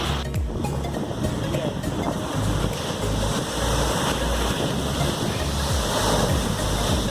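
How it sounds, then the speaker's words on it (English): Large waves roll and crash in a continuous roar with wind buffeting the microphone; low rumbling surges come and go. "So some footage for you of the waves."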